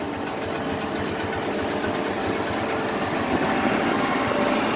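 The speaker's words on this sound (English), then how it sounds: "There goes Sam moving that wheel loader, baby." Wheel loader's diesel engine running steadily as the machine is driven onto a hauler, a constant rough mid-pitched rumble with a knocking pulse, fairly close and unbroken, no talk.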